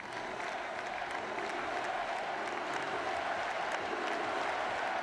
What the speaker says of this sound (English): I hear applause.